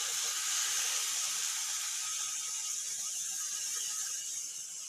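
Tomatoes go into a hot pan with onion and chillies for a shevla upma, giving a steady, bright sizzle that holds evenly and fades slightly at the end.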